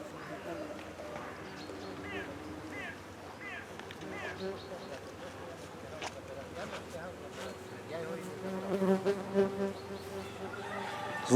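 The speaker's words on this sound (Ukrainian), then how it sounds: "Потужна, гарна, опорна пасіка чистопородних карпатських бджіл" Carpathian honey bees buzzing around a strong apiary in Kolochava, a faint, steady drone mixed with low outdoor background noise.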